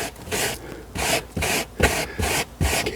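A rubber-ended lily brush scrubbing dog hair off car upholstery makes close, rhythmic rasping strokes, about six brisk rubs with short pauses between them.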